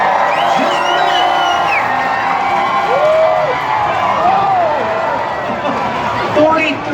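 Grandstand crowd at a Tuff Trucks fairground event, a dense roar of cheering and whoops with scattered individual yells rising above it, steady and loud throughout.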